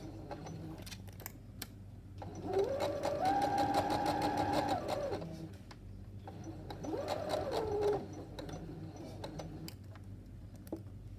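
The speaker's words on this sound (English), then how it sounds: "make sure you do back stitch at the beginning, back stitch at the end, and you keep stitching." A sewing machine stitches a gathered skirt in two bursts of steady whirring, separated by a short pause, with light ticking and handling sounds between runs.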